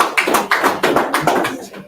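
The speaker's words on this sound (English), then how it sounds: "A round of applause for" A small round of hand claps at a techies meetup, a few people clapping in a quick uneven rhythm, close and fairly loud, brief and without other sounds.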